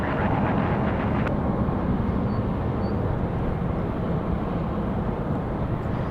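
United airliner taking off from runway 23 right at Raleigh-Durham International, a loud steady roar of jet engines with broad rumbling noise, sustained throughout with no talking.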